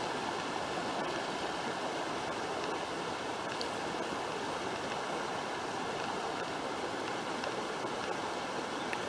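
Water rushing in a stream on the west coast, swirling through a small whirlpool, a steady close-up hiss and gurgle that continues evenly with no voices.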